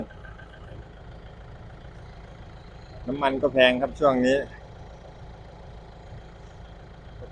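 A tractor engine idles with a low, steady rumble in the background while someone speaks briefly over it.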